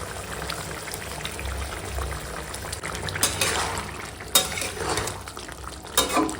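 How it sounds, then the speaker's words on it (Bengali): Fried katla fish and young spinach go into a simmering Bengali fish curry with ridge gourd and drumsticks, bringing close wet stirring, bubbling and sizzling plus a few louder splashy clatters as pieces drop into the pan. "এখন দিয়ে দেবো এই ভেজে রাখা মাছ"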